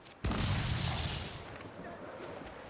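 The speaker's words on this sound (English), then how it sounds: "Incoming fire!" Ship cannon fire in the pirate game Assassin's Creed Black Flag: a sharp, heavy boom followed by a long rumbling roar of a broadside that slowly fades over a couple of seconds.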